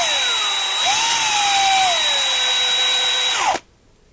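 A power drill bores through a tiny 1/64-scale NASCAR diecast model car, a loud, steady high-pitched whine that shifts pitch as the bit bites into the metal, then cuts off abruptly near the end.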